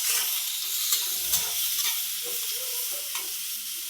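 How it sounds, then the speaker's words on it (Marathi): Onion fries in a pan for tomato chutney, a steady close hiss of sizzling oil with a few light stirring scrapes and no talk. "आता कांदा टाकते बघा. कांदा थोडासा भाजत आला मग टमॅटो टाकायचं बरं का."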